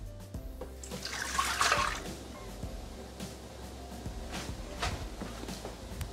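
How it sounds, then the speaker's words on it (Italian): Milk pours into a Thermomix mixing bowl with a close, splashing liquid rush that swells for a moment then settles into a softer trickle, with low background noise throughout. "Iniziamo la ricetta mettendo all'interno del boccale il latte"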